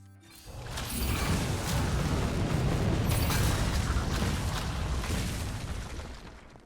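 A Corpse Explosion card effect in a digital card game plays as a sustained rumbling burst that swells, holds for several seconds, then fades, with no speech.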